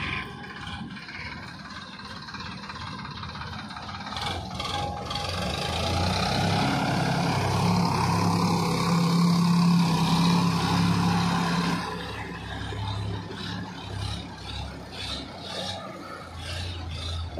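A tractor engine runs in a village farmyard, a loud, rough, steady drone that swells into a heavier hum in the middle before easing back, with no talking over it.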